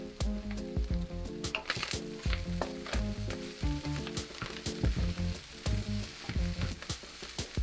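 Carrots and broccoli sizzle and crackle in a hot pan for fried rice, with repeated stirring scrapes and hisses in an uneven rhythm, close and moderately loud, no talk.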